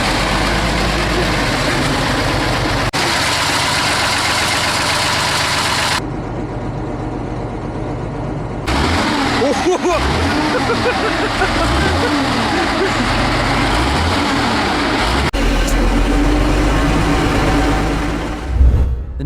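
A 38.8-liter V-12 diesel engine with a high-pressure compressed air starter runs in a loud, continuous heavy rumble across several abrupt cuts. A brief surge comes near the end.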